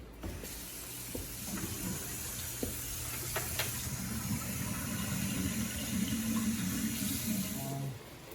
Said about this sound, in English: from here, we're going to put just tap water in, cover these guys up